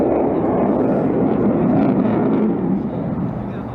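Panavia Tornado variable-sweep jet performing in a flying display, a loud, steady broadband engine roar that holds level and then slowly fades toward the end.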